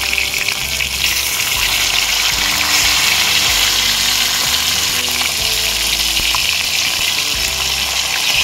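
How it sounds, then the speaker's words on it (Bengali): Pieces of katla fish fry in a well-heated kadai, giving a loud, dense, unbroken sizzle and hiss up close, with steady tonal music running underneath and nobody speaking. "এবার মাছগুলোকে ভেজে নেব।"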